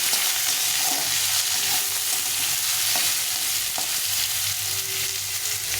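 Potatoes fry in a pan as a Bengali vegetable and fish curry is being cooked, giving a steady, dense sizzle with a few faint stirring scrapes and no talking.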